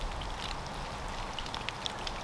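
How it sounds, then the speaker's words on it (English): Steady rain falls, giving a constant soft hiss with scattered light drop ticks, even and moderately quiet, with no voices. "I enjoy the sound of rain."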